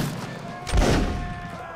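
A single deep cannon boom goes off partway through, a short thudding blast from a battle in the video game Mount and Blade Warband Napoleonic Wars.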